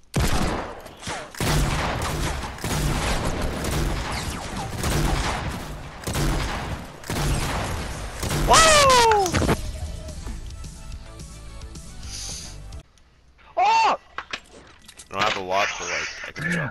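Shooting in a multiplayer video game: repeated bursts of gunfire sound close and loud under constant chatter from several players. Some of the shots are faint and far away, and short electronic game effects come in near the end.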